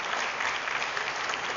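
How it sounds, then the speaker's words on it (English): Steady applause from an audience cheering young children after a Vasant Panchami recitation of Hanuman Chalisa, a dense continuous clapping close and loud throughout, with no talk over it. "So I want to applaud and want to give the clap to them one more time."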